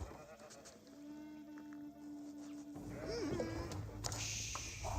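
Sheep in Age of Empires 4 give a wavering bleat midway through, set among game effects and a low hum, with faint voices in the background.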